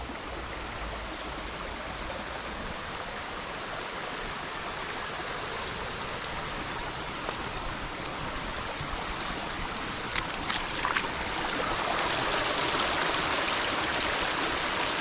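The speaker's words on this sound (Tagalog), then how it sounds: "So, silipin nyo tong ano, waterfall dito." Waterfall at Tapuakan River in Pugo, La Union: a steady, broadband rush of falling water fills the whole stretch, growing slightly louder near the end, with a few faint clicks and no talk.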